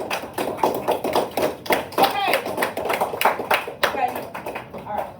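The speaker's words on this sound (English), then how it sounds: "Can we go ahead and clap it up for our peers?" A classroom of students claps for their peers, a dense burst of hand claps running throughout with a teacher's voice and children's chatter mixed in.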